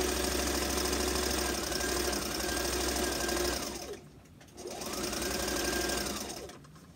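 A sewing machine back-stitches a half-inch seam on a fabric face mask, whirring close and steady in two runs with a short pause between them.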